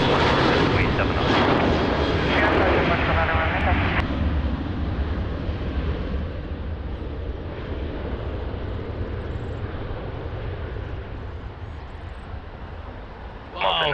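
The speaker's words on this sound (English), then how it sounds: "the best rolling takeoff I ever seen" A fixed-wing airliner on a rolling takeoff from runway 20 at Lisbon Airport roars loudly and steadily, the engine noise easing slightly as it climbs away, ending with a brief louder burst.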